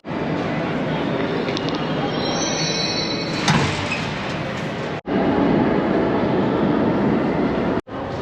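A Kazan metro train rumbles loudly from inside the carriage, with steady wheel and track noise, a brief high squeal, and two sharp cuts where the sound drops out.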